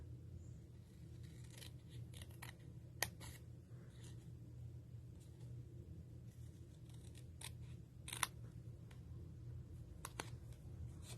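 Scissors cut paper banner tails for a greeting card, giving scattered faint snips and clicks over a steady low room hum, fairly quiet and close.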